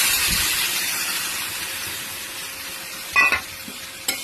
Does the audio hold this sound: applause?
no